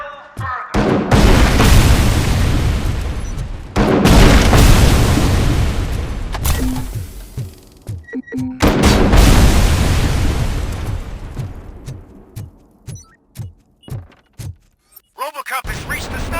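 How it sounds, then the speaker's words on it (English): A Cobra cannon in the RoboCop: Rogue City video game fires heavy booming blasts, several long, loud explosive roars with rumbling tails, followed by a run of shorter, sharper bursts toward the end. "Cobra cannon. Now we're talking."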